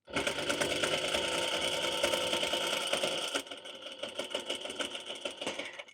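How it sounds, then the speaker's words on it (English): A sewing machine top stitching a Halloween pennant banner runs in a loud, steady close whir, then slows into a lighter, uneven stitching rhythm for the last couple of seconds. "we are going to top stitch these, and I'm just gonna like come in from the side and then top stitch."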